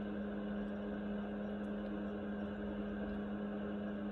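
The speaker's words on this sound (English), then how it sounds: "maybe a fan or a vacuum." A sound machine plays steady, unbroken fan- or vacuum-like white noise with a constant low hum beneath it, even and unchanging throughout.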